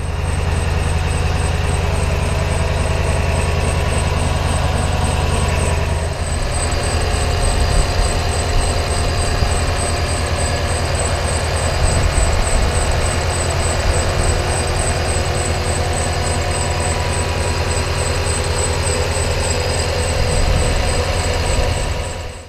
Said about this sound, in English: I was getting a weird whistle coming from the engine bay